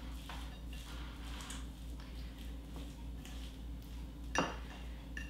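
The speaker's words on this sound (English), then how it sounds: "We just basically mix everything together." Obatzda beer cheese dip ingredients stirred together in a bowl, giving soft scraping and light clinks of utensil against the bowl over a steady low hum, with one sharper clink near the end.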